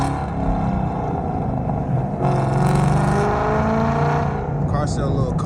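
Loud, steady engine and exhaust roar from a 500-horsepower Ford Mustang GT with its exhaust valve opened, climbing in intensity partway through as the car pulls away from a neighborhood on a cold morning drive; a voice speaks briefly over it.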